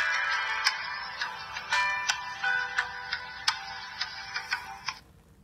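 A Ferrari-styled car-shaped mobile phone plays a bright electronic startup melody with a steady run of chiming pulses, clear and close, ending abruptly after about five seconds.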